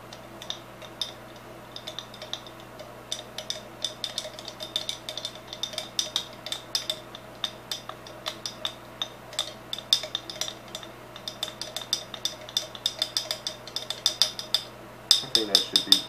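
A hot sauce drink is mixed in a glass with a utensil, giving rapid, irregular clinks and taps that continue steadily for the whole stretch, fairly close and moderately loud, with a few brief pauses.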